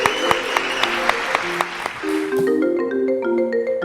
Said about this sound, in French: On applaudit pour ce talent-là.